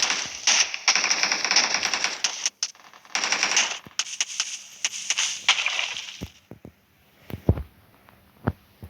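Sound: gunfire from a video game

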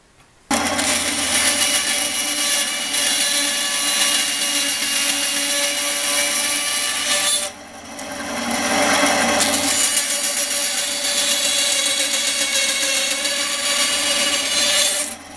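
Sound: bandsaw cutting a bridle joint in a wooden spear shaft

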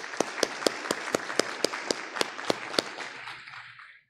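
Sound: audience applause

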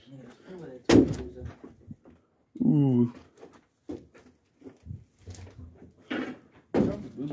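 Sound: backstage door being opened in an abandoned theater

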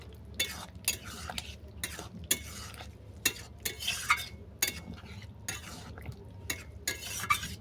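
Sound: stirring ground spices into sukto

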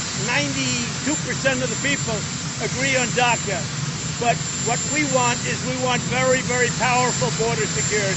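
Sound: aircraft engines running near interview, presumably Air Force One

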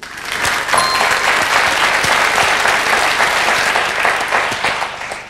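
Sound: applause

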